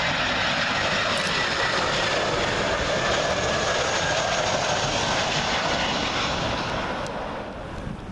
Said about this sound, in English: Next up, Brussels Airlines A320 arriving in from Brussels.